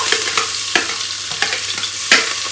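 Garlic frying in hot oil with cumin and asafoetida for a soup gives a close, steady sizzle punctuated by several sharp crackling pops and stirring clatters.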